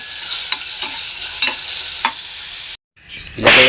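Garlic frying in a pan hisses steadily while a utensil stirs it with several scraping knocks, followed by a brief gap and a louder burst of sizzling.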